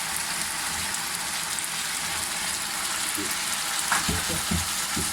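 Pieces of chicken for restaurant-style dry chilli chicken go into sauce sizzling in a pan. A steady close frying hiss runs throughout, with a few louder splutters and crackles near the end and no talking.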